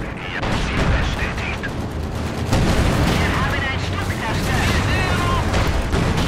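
Artillery fire in the Company of Heroes 2 video game at Stalingrad, a dense continuous barrage of booming blasts and gunfire staying loud for the whole stretch, with a voice speaking over it.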